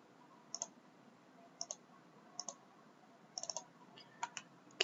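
Computer mouse clicking while tracing a road in ArcMap, sharp close clicks in pairs and small clusters, about a dozen over a few seconds, against a quiet background.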